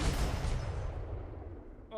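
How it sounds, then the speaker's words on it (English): A volley of cannons fires in a naval video game, one heavy rolling boom that decays over two seconds, loud and close with no voices. "Aim the cannons as high as you can."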